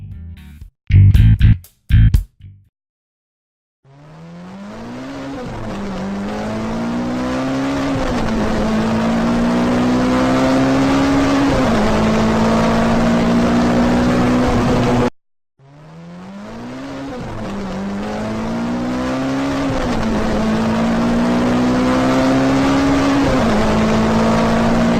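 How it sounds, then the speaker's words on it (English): A car starts off down a street to a home improvement store, its engine droning loudly from inside the cabin with the pitch climbing through gear changes, then cutting out and building up again a second time. "The next part of our journey is going to be a brief car ride down the street to Home Depot."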